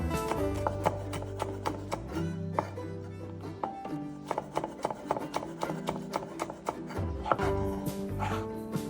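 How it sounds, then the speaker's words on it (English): A knife slices chilies on a wooden chopping board in quick, close, rhythmic taps, alone over a faint low hum that drops away partway through. "Chilies, slice them up."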